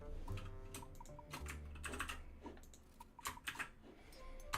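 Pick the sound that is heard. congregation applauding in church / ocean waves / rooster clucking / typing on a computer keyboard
typing on a computer keyboard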